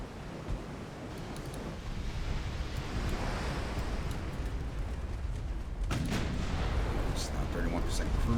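Naval artillery from the game Ultimate Admiral: Dreadnoughts, with an 1890-era Italian fleet engaging battleships at sea: a continuous heavy rumble of gunfire and surf-like roar, with a sharper burst of salvos about two thirds of the way through.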